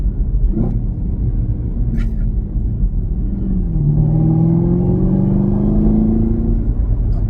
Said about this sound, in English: Let me downshift for y'all real quick.